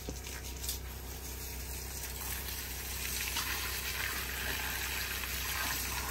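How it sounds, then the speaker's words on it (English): Water pouring steadily into the ring around an orange tree, a continuous soft gushing wash that stays even throughout, close by and with no talk. "Fill it up the ring here."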